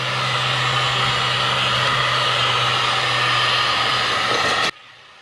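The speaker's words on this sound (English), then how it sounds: "I just hit it with a hot air gun and hopefully it'll dry up pretty quickly." Hot air gun blowing steadily on a wet brake plate of a 1986 Ford diesel Ranger 4x4 drum brake, a loud, continuous close-up roar with a low hum that cuts off abruptly near the end.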